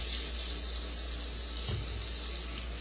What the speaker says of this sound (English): I'm just off the camera washing my hands.